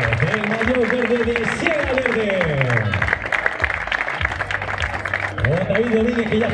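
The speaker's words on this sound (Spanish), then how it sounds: "El aplauso mucho más fuerte para David Domínguez." Audience applause at a stage finish of the Vuelta Ciclista de Salamanca through Las Arribes, honoring the winner, a steady wash of clapping throughout with a voice talking over it.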